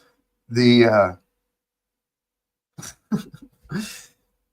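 One harsh cough sounds close by, and after a pause come a few short throaty bursts like further coughing or throat clearing.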